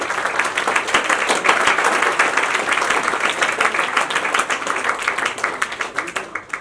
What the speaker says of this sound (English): This clap is for each one of you.